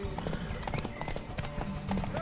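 Horse hooves trot in a steady clip-clop rhythm in The Witcher 3, close and clear over a bed of game ambience, with a brief whinny and some voices nearby.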